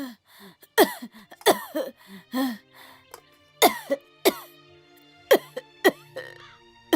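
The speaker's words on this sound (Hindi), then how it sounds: "इतना क्यों खांस रही हो?" A woman coughs repeatedly in sharp, close bursts, several in quick succession, with throat-clearing between them and no talk.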